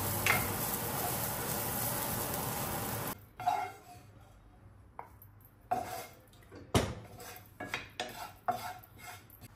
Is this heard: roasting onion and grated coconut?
yes